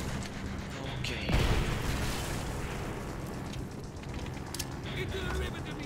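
A heavy cannon blast from a tank in Call of Duty: World at War booms once sharply, followed by rumbling debris and battlefield noise, with faint voices underneath.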